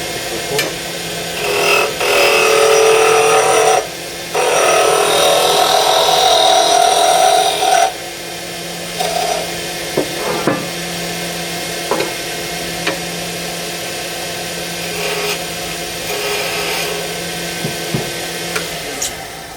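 A loud, steady whirring and rough scraping as a wood lathe tool, held upright, cuts spinning wood for a pen, broken by brief pauses, then trailing into quieter intermittent ticks and knocks.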